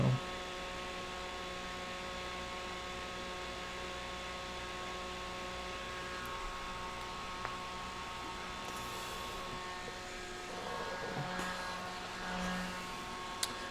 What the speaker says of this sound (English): Luckily I have this fan though, because this would have taken forever to dry.